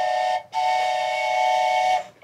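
A steam train whistle used as a sound effect on a radio show, sounding as a loud sustained multi-tone blast, broken by a brief gap, then a second long blast, with no talk over it.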